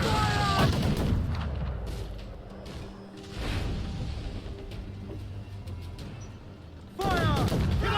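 Ship cannons fire in the video game Assassin's Creed IV: Black Flag, heavy booms and crackling blasts at the start and again near the end, with rumbling battle noise and shouted game voices between.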